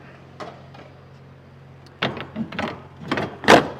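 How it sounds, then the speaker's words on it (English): Truck cab doors being shut on a cold, foggy morning: a quiet idling hum, then a cluster of loud metallic thuds and clunks from the closing doors, close by with no talk. "That's the door shut."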